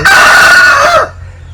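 A loud, close crow from a roughly three-kilo fighting rooster holds one long, strained note for about a second, then breaks off into quiet.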